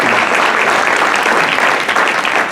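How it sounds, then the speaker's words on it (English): A roomful of people at an overdose and drug awareness symposium applaud, giving a loud, full, unbroken burst of clapping that carries evenly from start to finish. "let's give him a round of applause for his hard work"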